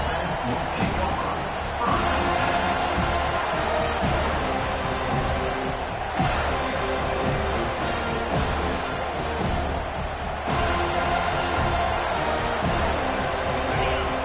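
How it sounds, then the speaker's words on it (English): A roaring football stadium crowd fills the air with constant cheering and noise, swelling in waves, with a few sharp bangs cutting through. "this crowd is fired up. Listen to this noise here"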